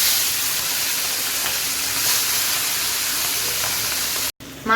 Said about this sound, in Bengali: এখন আমি চিংড়ি মাছগুলো ফ্রাই করে নেব